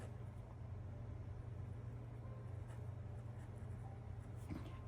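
A new fountain pen scratches faintly on paper, close and quiet, over a steady low hum of background noise.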